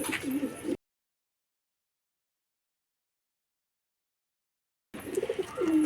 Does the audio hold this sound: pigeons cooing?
yes